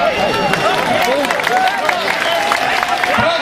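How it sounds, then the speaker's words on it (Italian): Crowd at an outdoor donkey race in Fagagna clapping and murmuring in a steady, dense wash of applause, with voices mixed in throughout. "Applauso, dai!"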